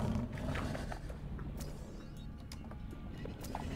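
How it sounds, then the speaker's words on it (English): Sand shark creature roaring in the underwater survival game Subnautica: a continuous low, rumbling growl with dense texture, sustained for several seconds alongside faint clicks and game ambience, with no talking. "Sand shark, that's what it is."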